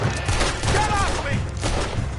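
A burst of rapid gunfire rattles through a Red Dead Redemption 2 shootout, several quick shots layered over shouting voices.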